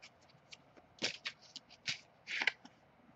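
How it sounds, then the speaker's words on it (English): An oracle card deck shuffled by hand, giving a run of soft, crisp riffling bursts with brief pauses between them, close and fairly quiet with no voices. "As I shuffle the deck"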